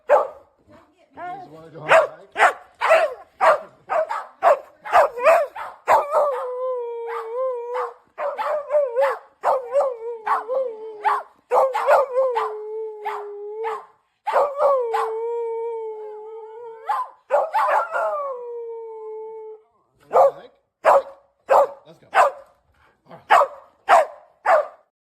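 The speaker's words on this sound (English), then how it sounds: "when I say the word hike to our dogs, they go absolutely crazy" Several excited pet dogs bark, yip and howl in rapid bursts for about twenty-five seconds, loud and close, with sustained howls mixed into the frenzy.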